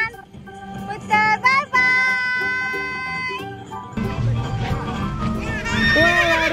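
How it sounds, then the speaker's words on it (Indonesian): Horses neigh loudly and hooves clip-clop during a children's ride. Several long, wavering whinnies sound up close, one after another, over a busy background with people in the crowd. "Hasi sama Haper naik kuda."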